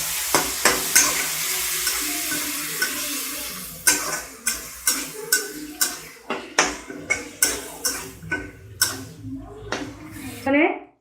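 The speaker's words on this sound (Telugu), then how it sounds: "అన్నీ బాగా వేగాక కొంచెం పెరుగు వేసుకుని బాగా కలుపుకోవాలి" A spoon stirs curd into fried paneer masala in a pan, a rhythmic series of close scraping strokes over a soft sizzle, with a voice heard faintly.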